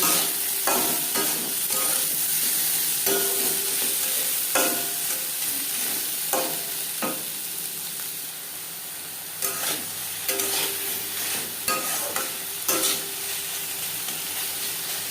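Katla fish curry with eggplant sizzles steadily in a pan while a spoon scrapes and stirs it in irregular knocks and clinks, close and continuous with frying hiss throughout.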